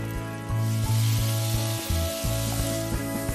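Minced meat hitting a hot pan for stuffed-tomato penne, a loud close sizzle and crackle rising at once and holding steady, with rhythmic knocking and a steady hum from music running underneath.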